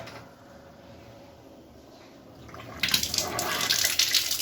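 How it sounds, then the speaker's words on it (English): Water from an RO purifier's waste tank, driven by a pump, starts pouring into a sink. A low hum fades into a sudden bright, steady rush of running water, fairly close, with no talking. "You see water has started coming into the sink."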